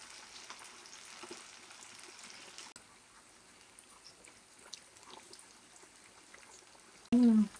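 Palm fruit (munjulu, ice apple) fries Godavari style in hot oil, a soft, steady bubbling sizzle at moderate distance, ending in a brief loud burst of a voice.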